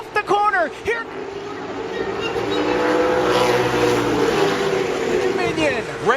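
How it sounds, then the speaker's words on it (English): A race car powers off a corner on an asphalt track, its engine roar rising and holding loud and close, with a commentator talking over it and other cars passing at the start and end. "As Queen will drive it once again off the corner"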